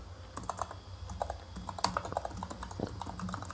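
Rapid typing on a computer keyboard while entering code, a dense run of quick, close clicks and key taps over a faint steady background hum, with no one talking.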